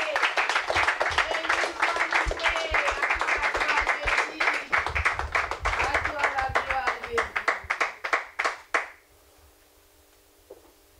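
A church congregation at a healing-miracles vigil claps in steady, dense rhythmic applause for several seconds, thinning to a few scattered claps before stopping abruptly, with a faint voice barely present.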